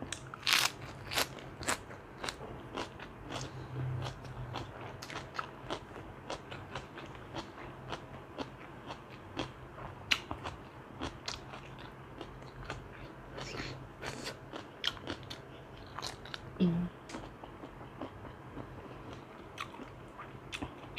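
Someone chews a crunchy spicy Thai salad of fresh shrimp and noodles up close, giving a steady run of crisp bites and crackling crunches with no talk.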